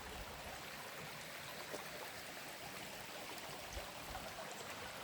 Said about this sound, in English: Love this brook so much.